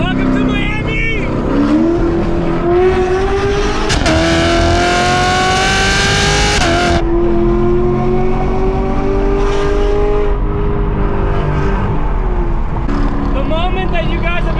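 A Chevrolet Camaro SS engine revs hard and loud nearby, with rising and falling pitch sweeps and a sharp burst of roaring acceleration midway, mixed with voices talking.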